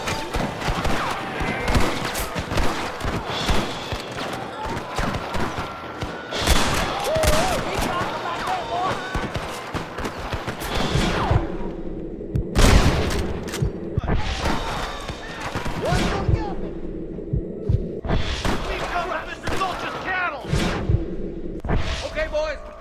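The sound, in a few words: gunfire in the video game Red Dead Redemption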